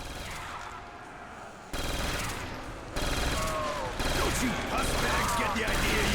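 An FG42 light machine gun in Call of Duty: World at War Zombies fires with the Double Tap perk: rapid, dense bursts of gunfire that grow louder across the clip, close and continuous.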